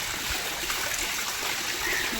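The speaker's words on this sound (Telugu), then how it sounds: "బాగా పడుతుందండి వర్షం పడటం కూడా" Steady rain falls hard on a flat roof terrace as runoff gushes and trickles nearby, a continuous loud wash of water with no voices.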